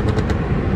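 A second two-stroke outboard motor on a boat fires up and runs on choke with high revs, a loud continuous broadband engine roar with rapid pulsing throughout, no voices.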